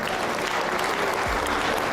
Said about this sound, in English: Let's clap it up for the youngsters.